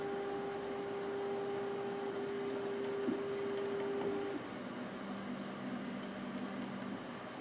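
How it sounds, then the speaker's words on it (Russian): The build platform of an Elegoo Saturn 2 8K resin 3D printer lowers with a steady motor whine, humming quietly for about four seconds, then dropping to a lower, softer tone as it keeps moving in a quiet room. "Наша платформа опускается. Ждем, пока опустится до самого конца."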